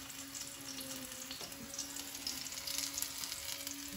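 Beef with chilli paste stir-frying in a pan over high heat, giving a faint, continuous sizzling hiss with light crackles throughout.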